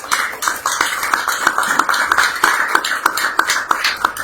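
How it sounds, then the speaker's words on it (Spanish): Congregation at a church service clapping for God after a successful couples' dinner, a steady scatter of close, sharp hand claps overlapping in an uneven rhythm for a few seconds. "Demos un aplauso a Dios."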